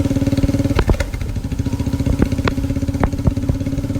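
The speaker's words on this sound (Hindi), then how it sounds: "मार्केट की सड़कों से राइड करके पार्किंग में अपनी मोटरसाइकिल को खड़ी करेंगे" A motorcycle engine idles with a steady, close, throbbing pulse on a market street in Badrinath, Uttarakhand, with a few faint sharp clicks and knocks over the running engine.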